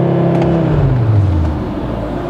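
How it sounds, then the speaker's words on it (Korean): A 2024 Audi RS 3 engine revs hard and holds at high RPM in launch control, a loud, steady drone with a pitch drop then settling, close and alone without talk. "드라이브 모드를 퍼포먼스 상태에서 왼발로 브레이크 밟고 가속 페달 끝까지 밟으면은 이렇게 레디 상태가 되는데,"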